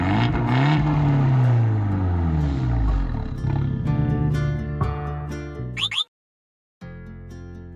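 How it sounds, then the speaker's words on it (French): An Abarth 124 Spider's quad-outlet exhaust roars loudly, the engine note rising and falling through revs, then cutting off abruptly into a short silence before a fresh burst at the end. "Quant aux 4 sorties d'échappement, elles adorent chanter très fort."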